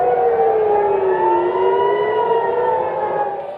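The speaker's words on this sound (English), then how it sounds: "Air raid sirens blast as people in Israel are warned to take cover in bomb shelters" A loud air raid siren in Israel wails continuously, its pitch slowly dipping and rising again, steady and close throughout with no voices.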